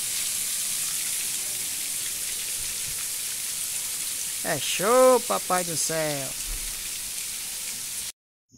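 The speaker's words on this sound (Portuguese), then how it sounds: "É boa, a chuva é grossa." Heavy rain pours steadily in Orói, Ceará, a dense, constant hiss that fills the whole stretch, with a voice speaking briefly over it near the middle before the sound cuts off.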